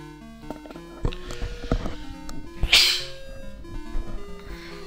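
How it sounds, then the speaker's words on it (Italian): A single sharp human sneeze, close and loud, bursts out over video game sounds of thuds, tones and clicks. "Scusate, starnuto tattico."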